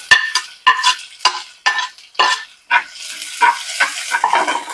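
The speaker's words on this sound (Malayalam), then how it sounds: "ഇപ്പൊ ഇതിൽ ഞാൻ കുറച്ച് സബോള ഇടാം" Chopped onion goes into a hot pan for semiya upma and crackles as it is stirred, a series of loud close scraping and sizzling bursts in a steady rhythm.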